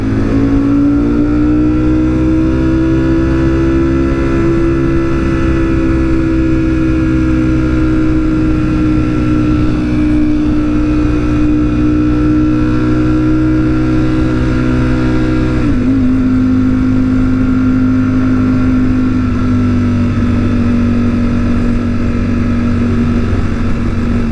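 Ducati Streetfighter V4S motorcycle engine at speed, a loud close continuous roar with steady harmonic tone that dips and shifts pitch midway as the rider changes throttle or gear, with strong wind rush.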